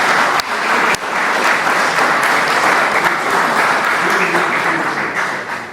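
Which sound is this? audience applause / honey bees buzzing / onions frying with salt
audience applause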